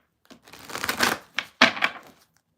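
A deck of cards is shuffled close up in several quick riffling bursts with short pauses between them, sounding crisp and papery with no talk over it.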